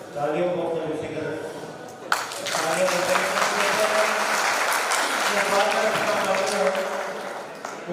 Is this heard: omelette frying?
no